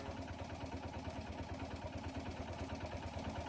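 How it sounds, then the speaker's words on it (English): A steady mechanical motor running in the video game Martha is Dead, a continuous low rumbling drone with a fast even pulsing chug, moderately quiet and heard alone without talk. "It's a motor of some sort, right? It's running."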